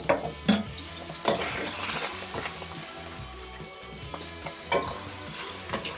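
Shrimp fry in oil in a pan over medium heat, giving a steady close sizzle broken by occasional clatters and scrapes of a utensil against the pan.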